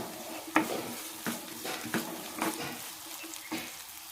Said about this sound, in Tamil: பச்சை மிளகாய் கொஞ்சம் வதங்கட்டும்.